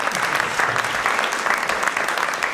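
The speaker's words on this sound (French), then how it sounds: "Il mérite nos applaudissements." Audience applause at a business round-table event, a moderate, even patter of many hands clapping together, steady and somewhat distant throughout.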